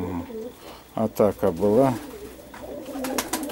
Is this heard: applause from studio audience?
no